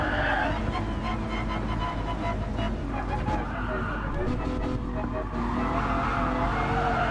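Ferrari in Gran Turismo Sport braking hard into a corner at a Cavallino event, with a steady loud engine roar and tire squeal running throughout, mixed with speech.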